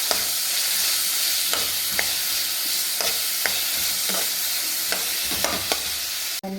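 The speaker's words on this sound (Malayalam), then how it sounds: "ചെറിയ നീരുള്ളി, ചെറിയ ടൊമാറ്റോ, ചെറിയ വെങ്കായം, 1 ടൊമാറ്റോ, 1 നീരുള്ളി മീനുകൾ ഇതും തെല്ല് ഫ്രൈ ആക്കുക. ഇതിൽ നല്ല ഫ്രൈ ആവുന്നു." Onions, tomato and prawns sizzle steadily in a pan, with repeated utensil taps and scrapes at irregular intervals, ending in a brief sharp knock.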